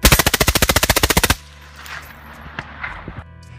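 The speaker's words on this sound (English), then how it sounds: "because we had to shoot it full auto" Full-auto .223 rifle fire using Wolf Gold 55 grain ammunition: a rapid burst of about twenty close, evenly spaced shots, followed by a quieter stretch of faint clatter and small knocks.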